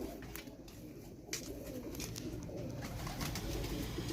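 A breeder pigeon coos in a loft in Faisalabad, soft repeated coos over a steady background hum.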